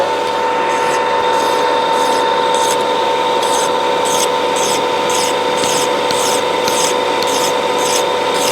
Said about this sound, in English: I'll just file around on the end here to match the old ones